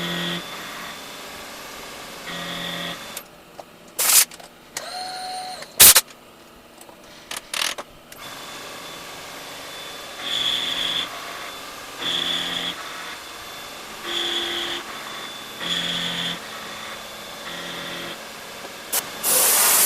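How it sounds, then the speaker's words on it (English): A milling machine cutter takes conventional passes into a metal part, cutting in a series of loud, separate bursts of grinding noise between quieter stretches, with a few sharp bangs early on. "I'm conventional milling right now. I'm pushing into the part"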